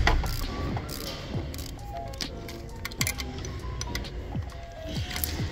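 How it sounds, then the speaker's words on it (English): A 1/4 inch ratchet tightens fuel pump bolts on a Chevy Equinox/GMC Terrain high-pressure fuel pump, giving quick repeated clicking and metallic ticks up close, amid background workshop noise. "A 1/4 inch ratchet is best for this job."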